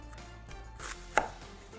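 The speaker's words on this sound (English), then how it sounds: "Since this half an onion is gonna go in the sauce, all we need to do is quarter it." A single sharp knife chop through half an onion onto a cutting board, one distinct close thud amid quiet kitchen background, with softer faint cuts before it.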